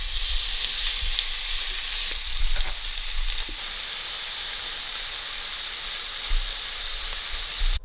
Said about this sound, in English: Now it's ready to be pan fried.